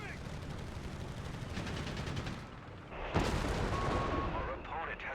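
Artillery shells pound a position in a World War II real-time strategy game, a dense continuous rumble of booming impacts with a sharp loud blast near the middle, layered under game noise.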